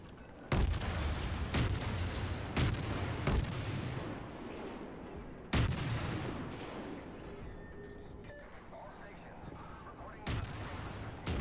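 Main battery salvos from the Soviet cruiser Krasny Krym in World of Warships, several loud booming shots spaced a few seconds apart over a rumbling sea backdrop, with faint talk in between.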